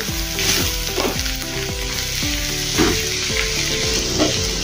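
Steady oil sizzle of ginger, garlic and green chili paste frying in a hot pan, with a few scraping stirs and soft clinks from a utensil, close up and continuous.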